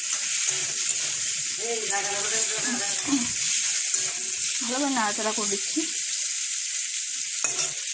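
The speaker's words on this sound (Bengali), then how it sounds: "ভালোভাবে নাড়াচাড়া করে দিচ্ছি" Food frying and sizzling in a pan on lowered heat while it is stirred, a steady hiss broken by scraping strokes, with someone talking over it.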